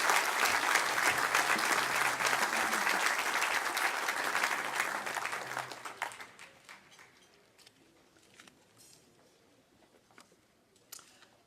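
Loud audience applause fills a room at an architecture awards dinner, sustained for about six seconds before fading to scattered claps and quiet room noise.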